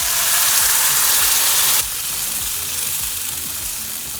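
Coconut, peanut and tamarind chutney hits a hot pan with hing and red chilies, setting off a loud, close hiss of frying that drops abruptly to a softer steady sizzle.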